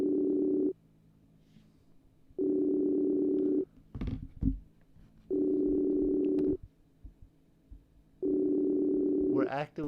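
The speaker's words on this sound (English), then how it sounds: "You can hear them ringing." A voice-call ringing tone repeats as four evenly spaced steady buzzing bursts of about two seconds each, clear and close, with a person talking briefly in the gaps between rings.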